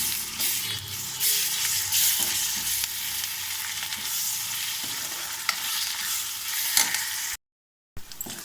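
Ginger garlic paste being stirred into a hot frying pan, with a steady loud sizzle and scraping stirs throughout and a short break near the end.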